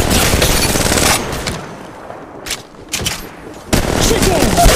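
Rapid automatic gunfire bursts from the mobile shooter Apex Legends Mobile crackle loudly, break off into a brief quieter gap, then resume in a dense volley.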